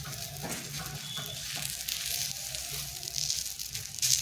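A peanut bobbattu flatbread fries in a light coating of oil on a hot pan, giving a steady close sizzle that crackles and pops throughout without any talking.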